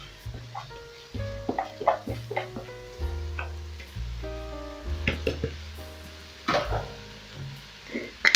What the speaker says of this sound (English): So at this point I'll add in my rice